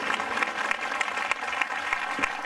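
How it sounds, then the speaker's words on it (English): A church congregation claps during a prophetic service: a steady, crowded patter of many hands at a moderate, even level, somewhat distant, with no clear voices. "Clap for Jesus."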